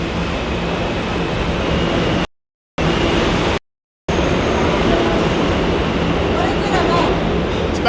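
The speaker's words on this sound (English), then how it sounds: "It's the same train." Subway train in New York rumbling along with a continuous roar and rattle, cut by two brief silent gaps, loud and close throughout.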